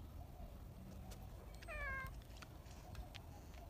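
A cat gives one short, rising meow partway through, quiet against a soft background hiss with nothing else going on.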